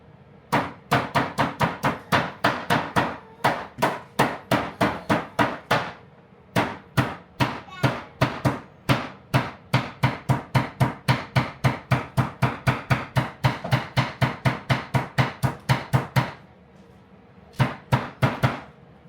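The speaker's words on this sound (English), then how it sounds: "my lovely wife does flower hammering" Hammer blows on flowers for flower pounding on a farm, struck in fast repeated bursts of sharp, fairly loud taps with a brief pause near the end, no talk over them.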